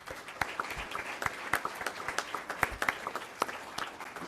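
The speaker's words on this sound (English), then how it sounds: "a round of applause once again for everyone" Sparse, quiet applause from a small audience at a school governing board meeting, with scattered individual claps in an uneven rhythm.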